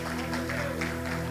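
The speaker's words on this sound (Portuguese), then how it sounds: "Você pode aplaudir o Senhor por isso?" A church congregation applauds during a worship service, a dense wash of clapping held at steady volume over sustained tonal notes, with no break across the short stretch.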